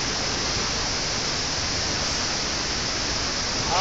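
The Buruisan waterfall roars as a steady, dense rush of falling water. It fills the whole clip without a break.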